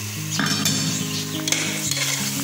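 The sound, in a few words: spices and salt being sautéed in a pan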